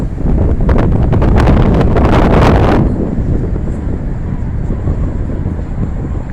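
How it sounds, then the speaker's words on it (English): Loud, steady wind buffeting the microphone outside Allegiant Stadium on Pro Bowl game day, a rough roaring rush that eases slightly partway through but continues throughout. "It's a little windy here today."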